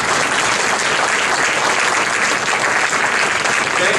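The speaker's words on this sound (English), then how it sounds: "Please, a round of applause for each of our candidates." Sustained, dense audience applause at a Nebraska Tea Party Patriots GOP Senate debate, loud and steady throughout with no voices on top.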